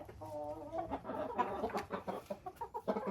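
A Faverolles-type farmyard hen clucking close by, a series of short, throaty clucks and bursts of cackling in an irregular rhythm, with no talk.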